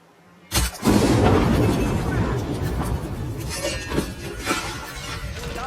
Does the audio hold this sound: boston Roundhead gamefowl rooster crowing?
no